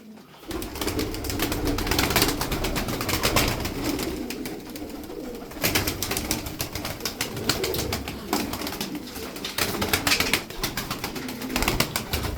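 Tokat tumbler pigeons flutter and coo steadily throughout, with dense wing-flapping clatter and a busy, close-up loft atmosphere and no talking.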